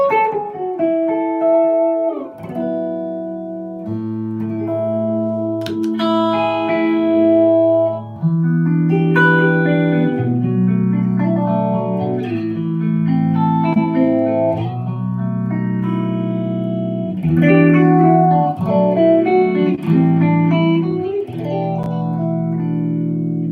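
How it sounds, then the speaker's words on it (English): Electric guitar played through a phaser effect, clean tone with sustained chords and melodic notes that swirl and shift steadily, loud and continuous throughout with no talking. "yes, the phaser did get turned back on there"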